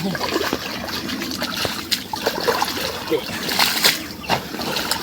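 Irrigation water splashes and trickles steadily into a farm field with sloshing bursts, while people talk over it nearby.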